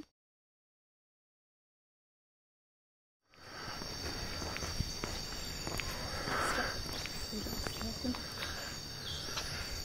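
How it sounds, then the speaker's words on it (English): Cicadas and insects buzz steadily along a jungle trail in southern Cambodia, a continuous high whine over faint rustling and distant birds after several seconds of silence, with no speech. "Nice and quiet apart from the cicadas"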